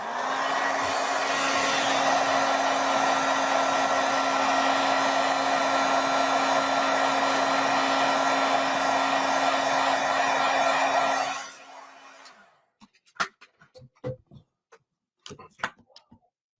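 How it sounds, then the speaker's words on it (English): A blower roars steadily for about eleven seconds while drying a wet stamped card, then cuts off, leaving light taps and small handling clicks near the end. "Oh yeah, it's wet. Let me just hit it with the blower"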